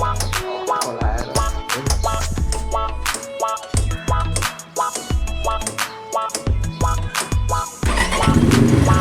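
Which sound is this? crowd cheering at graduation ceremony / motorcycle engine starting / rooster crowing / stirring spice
motorcycle engine starting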